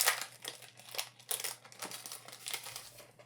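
A Pokémon Scarlet and Violet card booster pack is torn open close up, its foil wrapper crinkling in a quick series of sharp, papery bursts.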